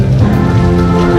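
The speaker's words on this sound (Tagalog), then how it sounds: "Lakas ang ulan." Heavy rain pouring down on a surface during a city tour in Cebu, a loud dense continuous hiss with no letup.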